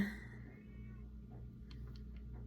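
A pet cat indoors gives a few faint, short meows near the end, quiet against a steady low household hum.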